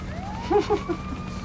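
Ambulance siren in the video game GTA V, a wailing tone sweeping upward under a steady engine drone, with a few brief clipped sounds from a voice in the middle.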